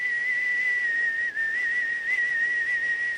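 A person whistles a steady, sustained tune with a slight wavering pitch and one brief breath gap, clear and close with no speech.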